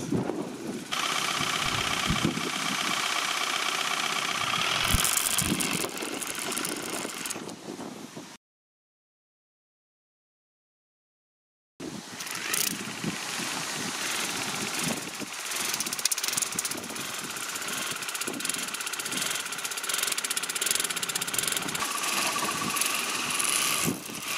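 A Youngdo cordless water flosser runs in soft mode with a steady, hissing motor buzz. It cuts out for a few seconds, then starts again, with no voices.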